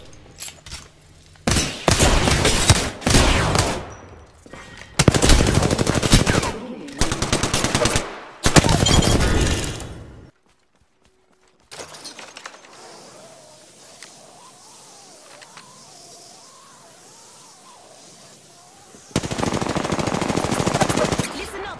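Automatic gunfire in Apex Legends: several loud, sustained bursts of rapid shots separated by short gaps, then a quieter stretch of softer mechanical tones before another burst breaks out.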